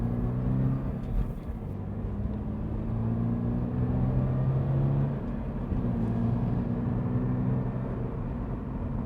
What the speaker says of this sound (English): Besides the engine noise, it's not terribly loud in the car or anything.